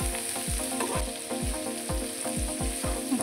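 Chopped vegetables and tomato fry in oil on a tawa for pulao, a steady close sizzle broken by regular stirring strokes about twice a second.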